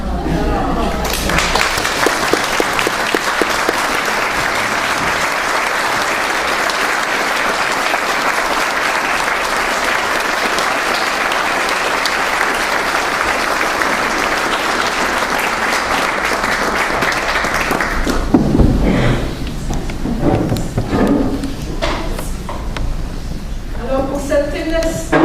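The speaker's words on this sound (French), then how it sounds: "on va tous se lever, puis on va l'applaudir." Students give a standing ovation at a tribute ceremony for Jean-Pierre Lemelin, loud sustained clapping for about eighteen seconds before it fades into voices and talk.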